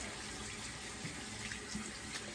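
A bathroom sink tap runs steadily to rinse lather from a gel-tip shaving brush, giving a continuous close rush of water with faint splashing.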